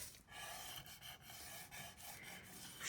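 A paper fold on a Victorian puzzle purse is pressed and sharpened, making a steady close-up dry rubbing and rasping that comes in short strokes with brief pauses. No one talks.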